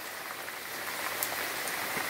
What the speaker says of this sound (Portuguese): Com muita chuva.